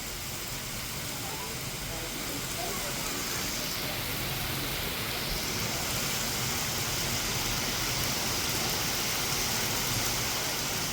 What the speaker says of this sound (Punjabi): ਕਾਫੀ ਤੇਜ਼ ਬਾਰਿਸ਼ ਕਾਫੀ ਤੇਜ਼ ਹਨੇਰ ਚੱਖੜ ਹਵਾਵਾਂ ਚਲਦੀਆਂ ਹੋਈਆਂ